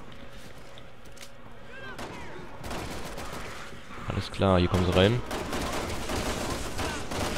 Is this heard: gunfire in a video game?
yes